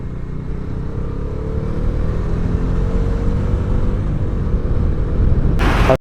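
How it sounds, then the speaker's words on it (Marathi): Engine rumble of road traffic in a jam at Lonavala, heard from a motorbike on the Mumbai–Tuljapur route: a steady, loud low drone of idling and creeping vehicles throughout, with a brighter burst near the end. "इथे ट्रॅफिक केवढा जाम ट्रॅफिक आहे, जाम ट्रॅफिक."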